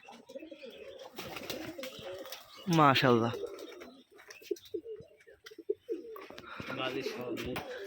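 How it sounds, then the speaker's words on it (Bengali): Rooftop loft pigeons from a Rajshahi flying-pigeon farm coo in low, rolling bursts nearby, while someone talks intermittently over the birds. "এই যে মাদি কবিতর"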